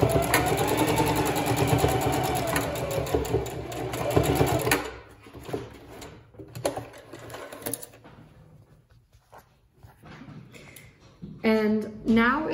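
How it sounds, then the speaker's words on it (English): A sewing machine back-stitches through a fabric notebook at a point of added stress, whirring rapidly for about five seconds before stopping, followed by quieter handling noises and a short spoken passage. "I'm going to do a strong back stitch on this because this is a point that gets additional stress on the notebook."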